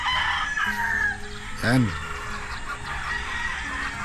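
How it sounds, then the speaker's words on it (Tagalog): Rooster crowing at a game farm in San Lorenzo, Laguna, one clear nearby crow rising over a busy backdrop of clucking fowl, with someone briefly speaking. "nakikita namin ngayon dito puno ng mga manok."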